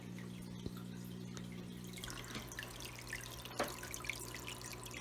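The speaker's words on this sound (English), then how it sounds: "Good little filter. It has this nice flow." Steady trickle and splashing from a small filter in a 29-gallon aquarium, water spilling continuously with faint drips layered over a low hum, close and quiet.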